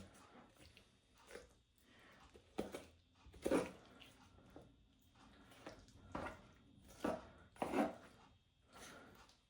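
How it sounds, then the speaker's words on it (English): A Dispatch 8131 drop point folding knife in D2 steel cuts meat from the bone, giving soft wet slicing and scraping strokes in irregular bursts, close and fairly faint. "you could use the knife to just cut off the meat, separate the muscle from the bone"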